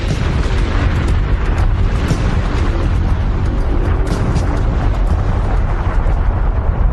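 Mount Vesuvius erupts from its 2,000-foot-wide crater in a loud, continuous roaring rumble that holds steady throughout, dense and booming like a sustained explosion.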